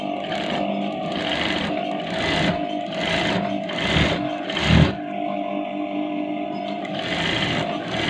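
A sewing machine stitches a chudithar top in steady rapid bursts, its whirring rattle starting and stopping between short pauses, close by and clear.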